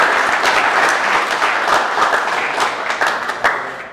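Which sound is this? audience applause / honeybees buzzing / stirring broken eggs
audience applause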